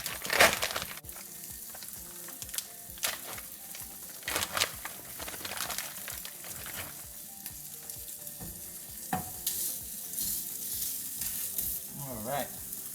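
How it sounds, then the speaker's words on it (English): Four sausages sizzle and fry on a hot griddle, a steady close crackling hiss with occasional louder pops and spatters throughout, no talking. "I'm going to use a griddle here to get them started."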